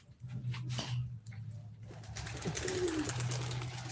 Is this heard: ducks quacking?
no